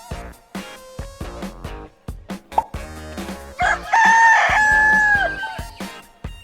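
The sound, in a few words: rooster crowing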